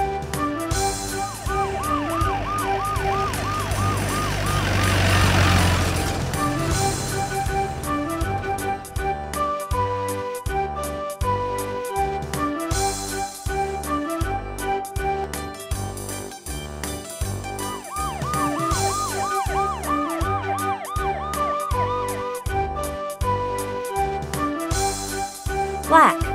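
A police car siren wails in a repeating up-and-down pattern over a looping musical backing, loud and continuous for the whole stretch.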